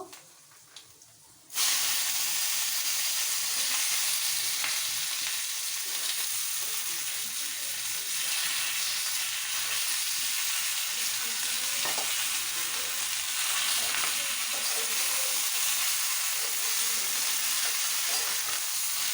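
Chopped vegetables hit a hot pan and burst into a loud, steady hiss of frying that continues unbroken, with faint stirring scrapes mixed into the sizzle.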